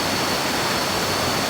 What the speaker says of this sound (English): you can hear the water crashing over the rocks